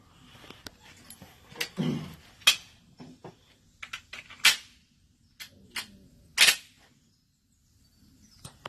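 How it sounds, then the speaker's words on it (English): An underpowered reloaded squib round fires at a shooting match with a weak, muffled pop, among several short, sharp cracks and knocks spread across a quiet, fairly distant range. "That was a squib load."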